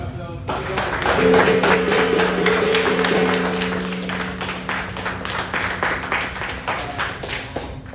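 A room of marketing team members claps for Brian Daniels' promotion in Philadelphia, dense steady clapping that starts loud and gradually thins out, with voices murmuring underneath.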